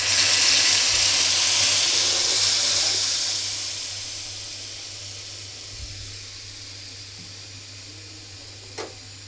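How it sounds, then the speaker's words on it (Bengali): Lentils (dal) are poured into a hot, fried spice paste tempering. A loud hiss of steam and sizzling bursts out at once, then slowly fades and settles into a quiet simmer over several seconds. "আমি ডালটা ডাইলে দিই।"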